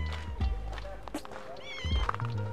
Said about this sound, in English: This cat has been meowing at me for a while.